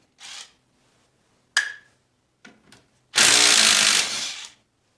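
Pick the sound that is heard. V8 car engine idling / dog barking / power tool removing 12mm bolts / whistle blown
power tool removing 12mm bolts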